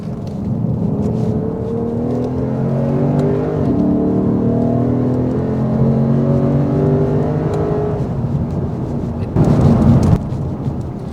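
Lexus RC F at a race track, heavy braking from speed with engine harmonics sweeping down through gear changes into second for a chicane, loud and close inside the cabin, a brief harsh burst near the end.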